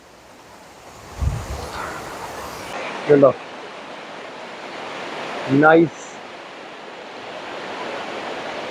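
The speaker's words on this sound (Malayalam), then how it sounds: "നല്ലൊരു വനത്തിൻ്റെ ആംബിയൻസിലൊരു വെള്ളച്ചാട്ടം." A small waterfall in the Akkara forest pours with a steady, broad rush, while a person speaks briefly over it and low handling bumps come through.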